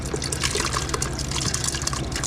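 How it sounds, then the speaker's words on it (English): Southern corn soup pours into a crock pot with a steady, close, wet glugging and splashing flow throughout, and no talking. "So we're gonna transfer this over into the crock pot here."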